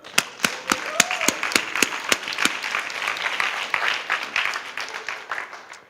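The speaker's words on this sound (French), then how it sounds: "Je pense qu'ils méritent une bonne main d'applaudissements." A church audience applauds couples being encouraged, with loud sharp claps at first that give way to a thick, sustained patter of applause while a voice briefly calls out near the start.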